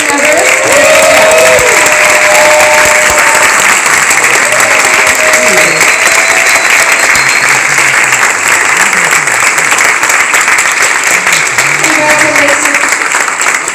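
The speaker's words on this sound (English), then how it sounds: "Let's give a big round of applause for our new members." Loud, sustained applause from a live audience at a stage performance, welcoming new members, steady clapping over about fourteen seconds with crowd murmur and scattered voices.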